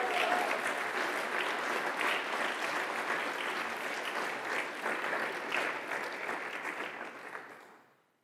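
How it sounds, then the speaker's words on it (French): Dense, sustained audience applause at a left-wing political rally in Lomme, a steady wash of many hands clapping that holds for several seconds and then fades to silence at the end. "Donc merci de les applaudir encore une fois"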